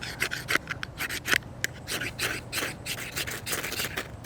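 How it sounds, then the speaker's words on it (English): Spine of a Buck 110 folding knife scraped along an Exotac Fire Rod XL ferro rod, giving a close series of dry, rasping strokes in an irregular rhythm, loud and alone with no talking. "And we'll see if this thing will scrape it."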